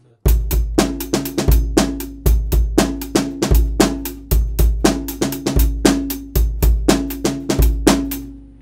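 A hip hop drum beat that combines two popular urban patterns plays alone for several bars. Booming kicks and crisp snares loop in a steady groove, loud and close.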